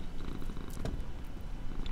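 A domestic cat purrs steadily and close by, with a low continuous rumble that runs throughout and a brief higher squeak about halfway through.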